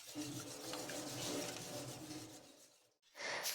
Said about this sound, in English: So we stir, stir, stir